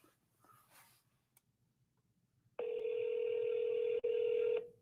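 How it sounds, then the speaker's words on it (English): An outgoing call rings on a telephone line, a steady electronic ring tone starting partway through after a faint voice and continuing loud and unbroken apart from one brief gap. "Oh, no, it's still ringing."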